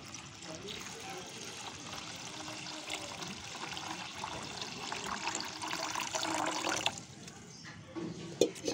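Water poured into a pot of broken rice mixed with green chillies, onion and salt, a continuous close splashing rush that builds over several seconds before cutting off, followed by faint clatter.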